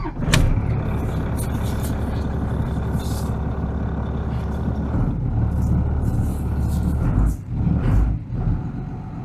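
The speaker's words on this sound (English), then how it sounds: "now we're going to try to start it." A first-generation Dodge Cummins diesel truck engine cranks with a sharp start and then runs with a loud, low, steady clatter, briefly dipping and surging near the end.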